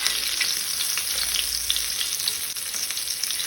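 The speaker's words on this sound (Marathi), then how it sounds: "दोन्ही वाटल्यान अशी बरी फ्राय करून घेवपाक जाय" Stuffed pomfret, Goan bharlele paplet, shallow-frying in hot oil over a medium flame gives a steady, close, dense sizzle with no pauses and no voices.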